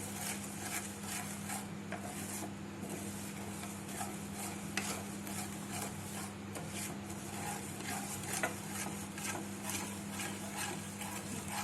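Caramel cooking in a pan for homemade gola kulfi, with a steady, soft sizzling bubble and scraping stir running throughout at low volume, no voices.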